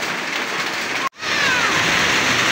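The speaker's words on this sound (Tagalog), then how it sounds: "Lumakas na naman yung ulan, guys." Heavy rain pours outdoors near a spring in a dense, loud, steady roar that cuts out for a moment and returns just as strong.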